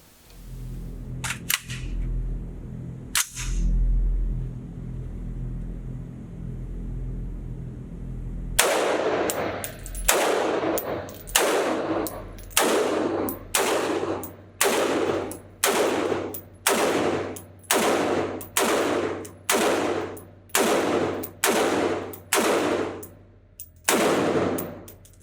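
A North Star Arms NS-15 rifle fires at an outdoor range: after a quiet stretch with a couple of isolated shots, a long run of about seventeen loud, sharp reports follows at a steady, deliberate pace.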